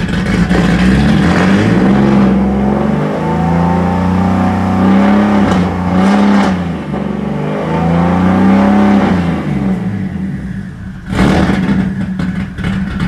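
A turbocharged BMW E46 engine with a faulty idle control valve, idling roughly up close, its low rumble wavering and surging unevenly throughout, with no one talking.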